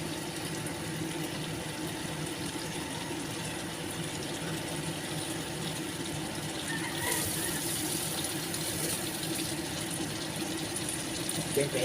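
Water pours steadily into a cooking pot of pork kaldereta with tomato sauce, a continuous splashing gush over a low background hum, with a brief brighter surge partway through.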